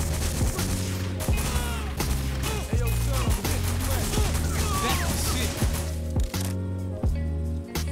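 Video game gunfire, with rapid bursts of shots and impacts layered over a constant loud music and effects bed, sounding dense and busy throughout.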